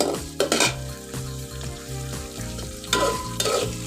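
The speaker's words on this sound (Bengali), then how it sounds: "পেঁয়াজটা আমরা একটু ভেজে নেব।" Onion fries in a pan with a bright, close sizzle and a few clanks of stirring, while steady background music plays underneath.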